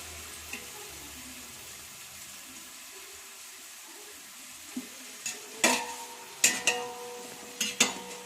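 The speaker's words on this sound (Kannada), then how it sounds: "ಮೆಂತ್ಯ ಸೊಪ್ಪು ಎಣ್ಣೆಯಲ್ಲಿ ಚೆನ್ನಾಗಿ ಕರಿಬೇಕು" Fenugreek leaves fry in oil in a pan for mutton biryani, giving a faint, low sizzle, followed by several sharp knocks and clinks of a spatula against the pan.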